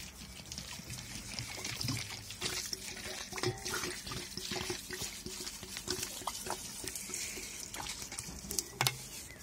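A litre of alcohol poured over dried sage for a herbal tincture, a continuous gurgling trickle of liquid with small splashes, fairly faint and heard alone.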